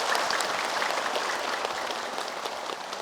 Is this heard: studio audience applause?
yes